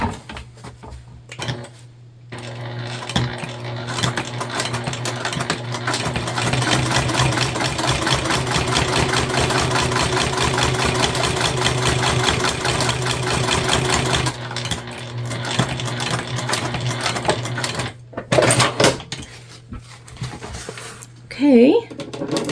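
Sewing machine running a steady top stitch on a fabric sling, rapid rhythmic needle clatter held for about twelve seconds, close and loud, with brief start-up and stop bursts and a voice speaking at the end.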